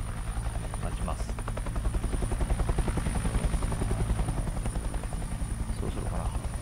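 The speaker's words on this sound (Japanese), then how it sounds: "で、ヘリコプターですね。" Helicopter in the mobile battle royale game Knives Out, its rotor thudding in a fast steady pulse with an engine drone underneath, continuous and fairly loud throughout.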